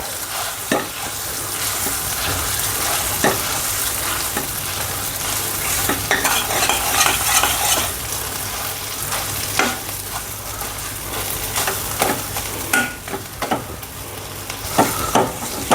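Potato roasting in ghee in a pan for a sweet fasting potato sheera, with a steady sizzle and repeated scraping stirs of a spoon against the pan, continuous and close throughout, with no talk.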